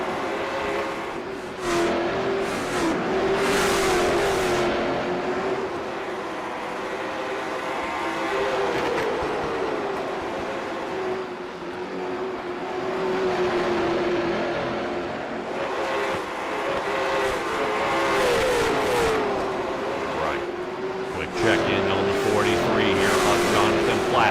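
Stock cars circling under green flag racing, a steady loud engine roar with rising and falling passes throughout, broad and continuous without a break.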